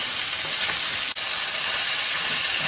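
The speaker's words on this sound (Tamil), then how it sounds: "நல்லா கொஞ்சம் காய் வதங்கட்டும்." Chopped red bell pepper sautés in a hot pan for a capsicum chutney, giving a loud, continuous sizzle with a faint stirring scrape and one momentary break.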